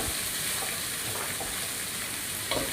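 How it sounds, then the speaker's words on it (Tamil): Tomato, onion and ginger sizzling in a pan for a chicken gravy, a steady broadband frying hiss with a few soft stirring scrapes near the end. "தக்காளி வெங்காயம்லாம் போட்டு வதக்கி இஞ்சி வெங்காயம் போட்டாச்சு."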